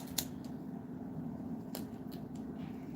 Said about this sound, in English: That's what a pair of scissors are for, right, folks?